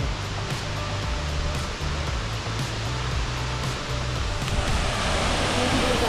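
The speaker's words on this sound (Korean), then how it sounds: "물소리 시원하다." A steady, roaring rush of water from a tall waterfall in Tanzania fills the scene, constant and fairly loud, with a low rumble of wind beneath it.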